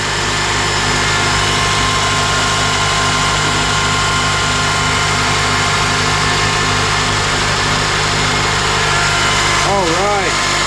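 A 2003–2007 Honda Accord engine idles steadily close by with a freshly replaced alternator, a constant even hum and drone throughout, with a brief warbling tone near the end.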